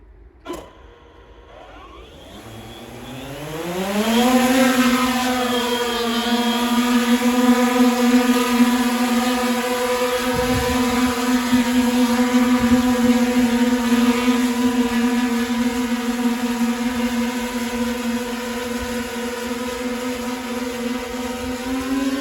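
Electric motors of a Wingcopter 198 drone carrying a YellowScan Voyager LiDAR spin up for takeoff, a rising whine that climbs in pitch over a few seconds and then holds as a loud, steady droning hum, with no talk.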